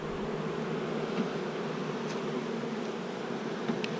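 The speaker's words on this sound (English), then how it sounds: "She's got a variety of bees in here." A steady, dense insect buzz of many bees in a hive, black and yellow bees, fills the air, close and continuous, with a few brief louder passes and no talking.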